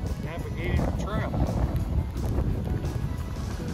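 Heavy wind buffets the microphone on the Appalachian Trail with a constant low roar and gusty rumbles, with a voice faintly present underneath.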